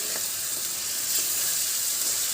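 Masala for an atti chepala pulusu fish curry stirred and fried in a pan, a steady, close, bright sizzle with faint stirring beneath and no talking.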